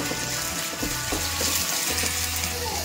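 Ginger-garlic paste sizzles and fries with chopped onions in hot oil in a pan, a steady close hiss with soft crackle and no voices.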